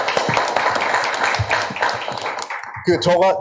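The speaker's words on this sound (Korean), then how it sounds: "박수 한번 하시죠" Audience clapping at a forum event in Gwangju, a few seconds of clustered handclaps from a seated crowd before a voice resumes speaking near the end.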